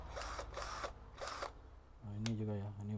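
A ZPER cordless battery drill whirs in short bursts during an unboxing test. Three loud pulses are followed by a steadier humming whine, close up, with a person talking faintly around it.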